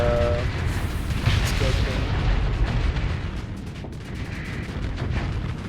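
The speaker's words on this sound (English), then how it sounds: "you got caught in your own buddy's explosion there." Ship explosion in the space combat game Starsector, a loud continuous rumbling blast with crackling bursts that fills the whole stretch and dips slightly midway, with no talk over it.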